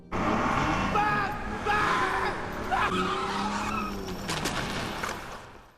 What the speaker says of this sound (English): He gets in the car and races it at full speed